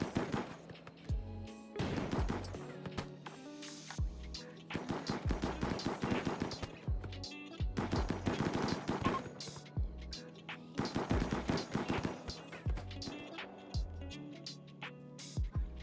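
A mini turret in the RimWorld colony game fires in repeated rapid bursts of machine-gun shots, steady and fairly close, with brief pauses between volleys and hardly any talk.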